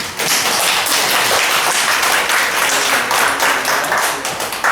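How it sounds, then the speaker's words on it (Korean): A standing congregation claps at a Wednesday worship service for a newly appointed service committee chair, a loud, dense and continuous round of applause lasting throughout without pause. "일어나셔서 박수 한번 좀 쳐주세요"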